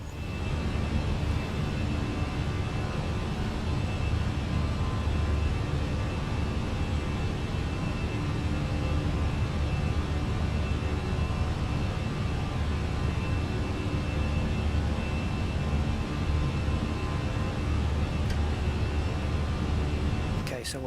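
Jet engines of a Fenix A321 airliner in Microsoft Flight Simulator drone in a steady, loud, broadband roar that holds unbroken for the whole stretch without clear rise or fall.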